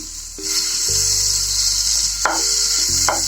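Butter melting in a pan gives a steady, close sizzle with a few stirring clicks, and there is no talking.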